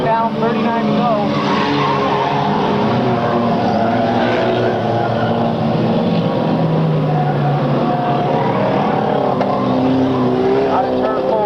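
Race cars roar out of turn 4 at a 1998 oval race, a dense continuous engine drone running under a track announcer's steady commentary.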